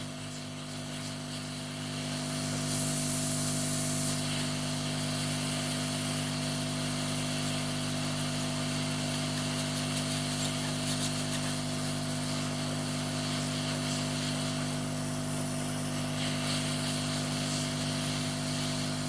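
A hot air tool blows steadily over a circuit board while a chip is being fitted to a BMW M51 TDS engine control unit, producing a constant loud hiss and hum throughout, with no speech.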